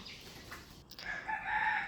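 Laying hens cluck and call in a short burst, a rising chorus of fowl voices growing louder toward the end with no one talking.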